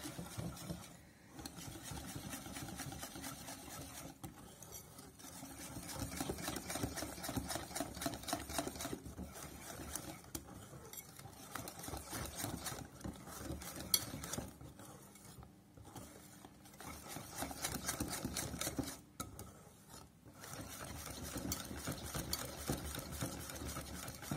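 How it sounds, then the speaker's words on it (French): A steady, rapid whisking rhythm as two chocolate fondant batters are mixed together in a bowl, continuous and fairly quiet throughout, with brief pauses and no talking. "On mélange nos deux préparations."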